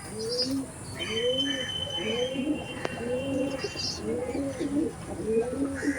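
Teddy pigeons coo in a steady run of low, rolling, repeated calls close by, with faint chirps and background noise underneath.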